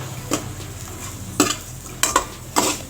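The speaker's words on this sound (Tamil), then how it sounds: "புளியும் பூண்டு வறுக்கும் போது எப்பயுமே லோ ஃப்ளேமில் வச்சு வருங்க" Tamarind and garlic frying in a pan over low flame, with a steady soft sizzle under four sharp stirring scrapes of a spoon against the pan, spaced unevenly.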